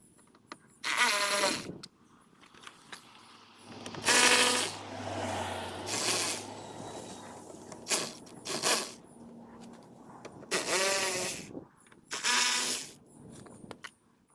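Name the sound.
removing screws from Ford Focus door latch mechanism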